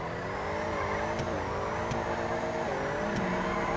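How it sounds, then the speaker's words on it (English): In GTA Online, a car engine revs steadily as the tires squeal in a drift. The engine drone rises and falls, with a few short, sharp tire chirps and no talking. "Let me try to do a little drift for you guys here."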